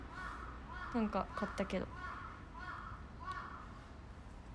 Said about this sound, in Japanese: いつもこうやってカラスが 何匹も鳴くんですよ。